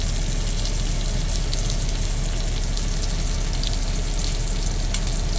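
Sausage frying in a cheap cast iron pan on a semi truck, a steady broadband sizzle with crackling spatter running evenly and fairly close throughout, no voices.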